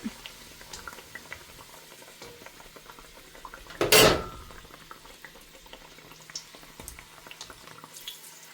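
Bread bhatura fries in hot oil with a low, steady bubbling and light utensil clinks, then a brief loud rush of sizzle as the piece is scooped out.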